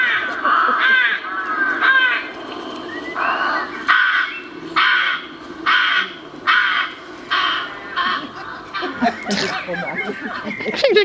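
Crows cawing in the wild, a series of loud, harsh calls repeated in uneven bursts, with a closer, raspier flurry of caws near the end and quiet pauses between calls.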